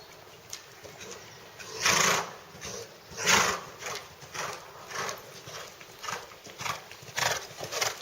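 Horse hooves clip-clopping steadily through a riding lesson, a regular rhythm of fairly close footfalls with occasional louder strikes, and no talk over it.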